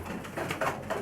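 Pigeons coo softly in a loft, low murmuring calls over a steady background hum, faint and brief with no speech.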